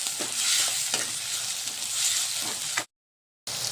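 Tomato and sambar cooking in a pan while being stirred, a close, steady sizzle with spoon scrapes, briefly dropping to silence before resuming.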